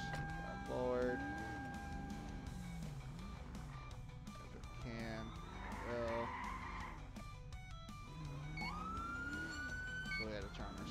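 A wailing police siren on a video game Durango rises and falls repeatedly over a steady engine drone, with tire skids and a brief yelp-style burst, all close and fairly loud.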